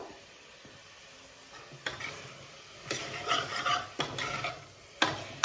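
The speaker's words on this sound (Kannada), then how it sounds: "ಚಂದ ಫ್ರೈ ಆಗಲಿ ಇವಾಗಿದು" Spices frying in a home kitchen pan as they are stirred, a soft close sizzle broken by scraping strokes and a few sharp clinks, fairly quiet overall.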